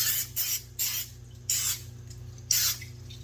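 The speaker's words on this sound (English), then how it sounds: "go ahead and hit it with some non-stick spray" Four quick hissing bursts of a non-stick cooking spray can, each under a second with brief pauses between, against a low steady hum.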